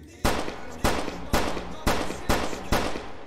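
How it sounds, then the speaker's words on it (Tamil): Six loud, evenly spaced gunshots ring out in a Skibidi Toilet horror video game, each a sharp close blast with a short decaying tail, fired at a steady pace of roughly two per second. "நான் பர்ஃபெக்டாக தலையில் சுட்டேன் கைஸ்"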